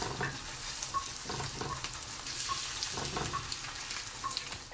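An egg, cheese and tomato toast sandwich grills in a pan with a close, steady sizzle, broken by occasional scrapes and light clinks of a utensil.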